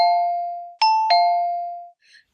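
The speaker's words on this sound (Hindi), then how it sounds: "जहाँ की डोरबेल हमेशा गलत वक्त पर बजती है" A doorbell chimes clearly and loudly in an apartment flat, giving long ringing tones followed by a two-note ding-dong that sustains and fades, then a faint brief sound at the end.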